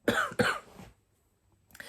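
Two quick, close coughs in a row, followed by near silence and then a faint sound at the end.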